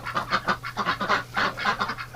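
Ducks in their pen on a winter morning quack in a steady run of repeated, fairly close honking calls, with no voices over them.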